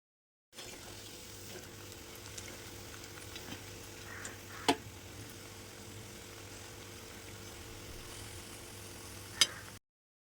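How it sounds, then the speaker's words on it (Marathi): Bhaji fritters frying in hot oil in a kadai on a gas stove give a steady, soft sizzle throughout, with a couple of faint clicks, no voices. "चला तर आता आपण भजी तळून घेऊया"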